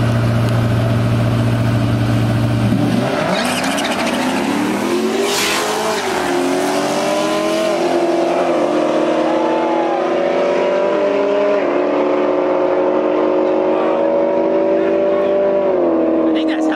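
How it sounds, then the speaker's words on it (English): Camaro SS and Dodge Hellcat in a street drag race, loud engines revving then roaring into a sustained, rising acceleration with shifting gear steps, close and continuous after a brief idle. "we got Camaro SS versus Hellcat"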